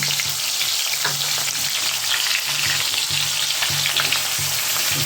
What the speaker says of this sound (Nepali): यो तेलमा मैले अलरेडी प्याज काटेर राखेको थिएँ, त्यो प्याजलाई म हालिदिँदैछु है।